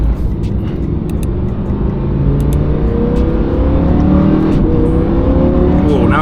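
A Lamborghini Huracan engine revs and climbs in pitch from inside the car, a loud continuous rising engine note with gear-change steps and no talk over it.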